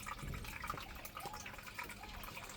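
Water runs steadily through a gold sluice at a winter sluice station, a continuous splashing, gurgling flow heard up close with small drips and bubbles, no voices.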